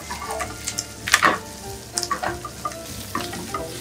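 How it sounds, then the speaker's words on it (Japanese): Shrimp stir-fried in a pan with butter for green curry fried rice sizzle steadily and loudly close by, while a spatula scrapes and clacks against the pan in irregular strokes. "炒めた方がエビは香りが出ますよね。"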